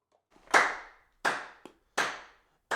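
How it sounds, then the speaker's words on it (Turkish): Hands clap four times in a slow, uneven rhythm, each clap crisp and close with a short room ring, in an otherwise quiet indoor space. "Alkış."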